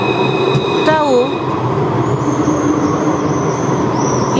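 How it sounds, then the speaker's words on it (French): An Orléans tram passes close by with a loud rolling rumble, a brief squeal of wheels on rail, and a high electric whine rising as it moves through town. "Le tramway d'Orléans, il ressemble pas mal à celui de Nantes."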